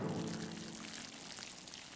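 Water pours steadily from a watering can onto garden seeds, a continuous close splashing trickle lasting the whole moment with no voices.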